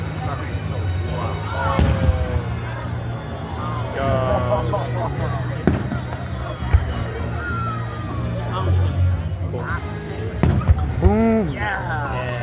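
Fireworks burst over Lake Placid during its 250th celebration, with several separate booms and pops spread across the moment beneath nearby people chatting and reacting.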